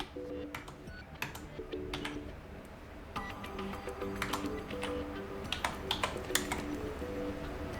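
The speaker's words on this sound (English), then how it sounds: "I'm gonna type in the SNID because it's shorter" Typing on an Acer Predator 17 laptop keyboard: steady, close, fairly quick key clicks in irregular bursts, with a faint tonal background under them.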